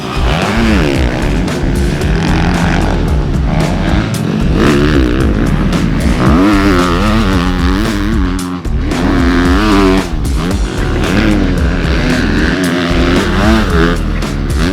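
A Pro Circuit Kawasaki KX250 motocross bike rides hard, its loud engine screaming continuously with rising and falling revs through repeated gear changes. No voices are heard.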